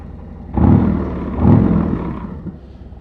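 A 2024 Harley-Davidson Road Glide's engine rumbles close by while riding, swelling in two deep throttle surges before easing back.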